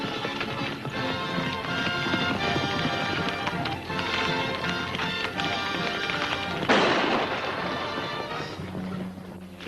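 Horses gallop in a 1943 Roy Rogers western, a dense, steady run of hoofbeats mixed with music and action noise, with a sharp crash-like burst partway through.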